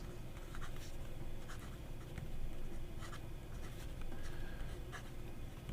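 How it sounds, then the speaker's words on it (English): Mahjong P139 fountain pen with a size 8 medium nib scratching across paper, faint close strokes with soft repeated scrapes over a quiet room hum. "It's writing a little thin just because maybe there's some drying up there"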